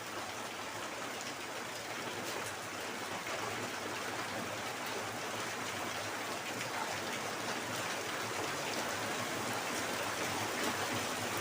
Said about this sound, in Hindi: इधर बहुत ज्यादा बारिश हो रही है।